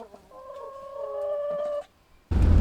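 Backyard hens at feeding time let out a drawn-out, tonal clucking call close by, followed by a short pause and then a sudden loud burst of rustling noise.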